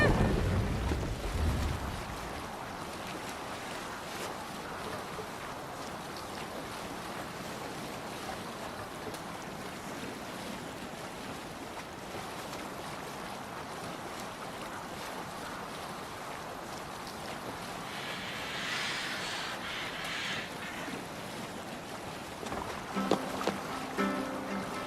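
Viking longship rowed across open sea in the Assassin's Creed Valhalla video game, a steady wash of waves, wind and hull noise running throughout at moderate level with a brief brighter splash near the end.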